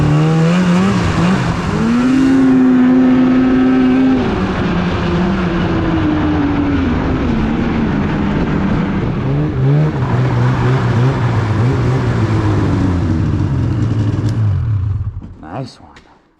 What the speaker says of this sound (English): that was a fun ride on the old Polaris there